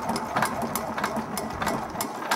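A 1.5 hp Dempster engine mounted on a new cart runs with a steady, rhythmic chugging beat of evenly spaced pulses, close by, with no talking.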